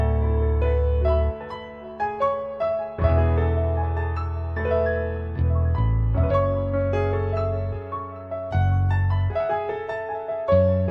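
A pain loop bass line plays under a piano part, deep sustained bass notes shifting every couple of beats beneath clear, steady piano chords and melody, no voices.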